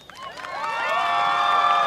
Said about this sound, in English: I want everybody to, the biggest applause you can for these athletes